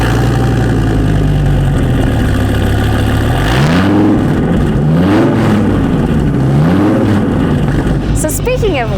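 A 2002 Dodge Viper engine idles with a deep steady rumble, then is revved several times in rising and falling surges, with people talking over it throughout.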